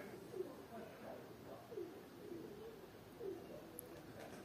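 Pigeons coo softly in a series of low, rolling calls repeating every second or so, faint and distant over a quiet outdoor background.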